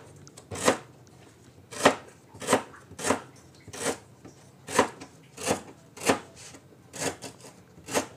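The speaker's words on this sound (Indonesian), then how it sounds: "Serai kita rincik halus-halus." A knife chops lemongrass finely on a cutting board, about a dozen distinct close thuds in a loose, steady rhythm with no talk.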